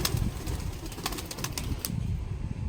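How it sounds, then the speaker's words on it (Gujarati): Domestic pigeons flapping their wings as they take off from a home loft, a burst of sharp rapid wingbeats and fluttering close by over a low rumbling background, with no talking. "મારા કબૂતર ભેગું ને આ ઉડવા માંડ્યું છે"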